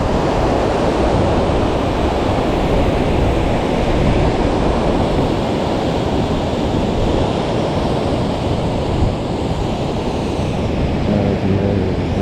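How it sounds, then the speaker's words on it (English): Little Niagara Falls, a waterfall beside a swimming hole on an Appalachian Trail side trail, pours in a steady, loud, unbroken rush of falling water, with no voices heard. "This is Little Niagara Falls."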